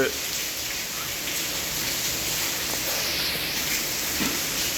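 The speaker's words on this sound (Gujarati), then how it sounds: "આજે અત્યારે અનરાધાર વરસાદ વરસી રહ્યો છે" Heavy morning rain pours down in Wankaner in a dense, even hiss that holds steady from start to finish.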